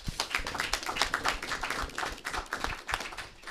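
An audience applauds at a university board of trustees meeting, many individual claps audible in a lively, uneven patter, fairly close and moderately loud, with no talking.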